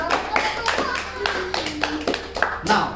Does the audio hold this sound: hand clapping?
yes